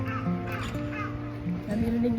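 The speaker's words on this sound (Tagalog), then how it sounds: "Narinig niyo ba yung mga uwak?" Harsh caws from crows ring out a few times in Tokyo over a steady background of voices and city bustle.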